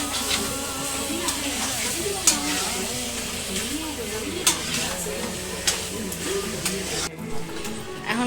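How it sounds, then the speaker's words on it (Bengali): Chicken curry cooking in a pan with turmeric powder being stirred in: steady sizzling and frying hiss with scraping stir strokes, occasional louder clinks of the spoon, and a voice talking over it. "ফির এখানে দেবো হচ্ছে হলুদ গুঁড়ো, দিয়ে একটু ভালো করে নেড়ে নেবো আবার হলুদ গুঁড়ো দিয়ে।"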